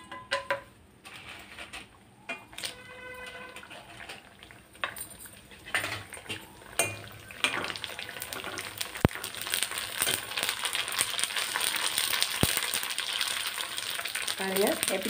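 Pani puri dough discs dropped into hot oil in a kadai, with a steady sizzle and bubbling that builds and grows denser, broken by clinks of a metal ladle against the pan.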